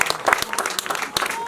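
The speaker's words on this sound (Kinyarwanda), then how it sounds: "mwafashije ukamuha amashyi" Wedding guests applaud during the celebration, a dense burst of clapping that runs throughout and swells near the end, mixed with a few voices in the crowd.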